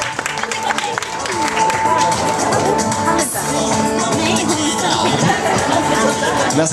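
An audience at a cosplay show in a bookshop gives a cosplayer a sustained round of applause, steady and fairly close, with crowd murmur and voices mixed in.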